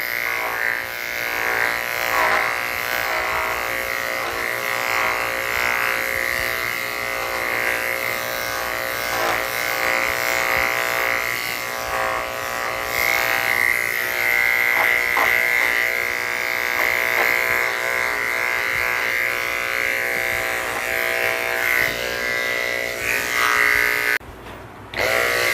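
Electric clippers shave down the side of a mixed breed dog, humming with a steady, close, continuous buzz that holds almost unbroken, briefly cutting out near the end before resuming.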